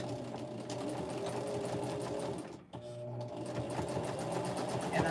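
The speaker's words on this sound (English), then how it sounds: "And I'm back stitching." A sewing machine runs steadily close by while back stitching, with a rapid mechanical chatter that pauses briefly midway before resuming.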